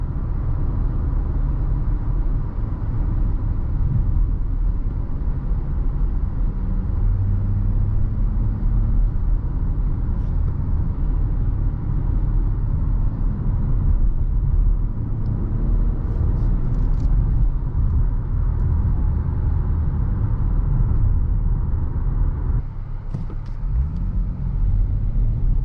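A 2023 Dodge Challenger SXT on a test drive, heard from inside as a steady, loud low engine and road rumble that holds for the whole stretch, with a few brief knocks and no talk.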